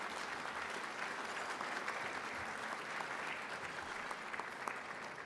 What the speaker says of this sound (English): Why don't we give them a big round of applause for their successes?